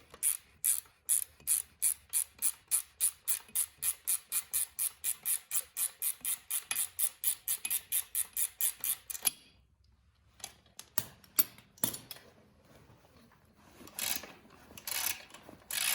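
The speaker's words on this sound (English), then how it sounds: "you're going to take this bottom shock bolt loose" A ratchet wrench works loose the lower shock bolt on a dirt bike, giving a fast, steady run of crisp clicks for about nine seconds, then a pause and a few scattered, sparser clicks and clunks close by.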